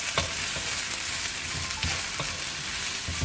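Onion and spring onion fry in oil while a spatula stirs them, bright continuous sizzle broken by several scraping knocks against the pan during cooking of spicy black squid.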